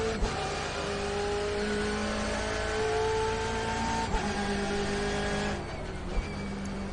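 A BMW M8 race car circling the Nordschleife in iRacing, its engine note dropping through a downshift with steady harmonic drone, a brief blip near the end and rumble throughout, no voices over it.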